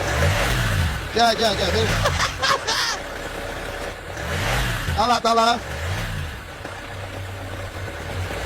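A car engine revs in short bursts while someone shouts guiding directions close by, with a horn-like honk mixed in and talk throughout.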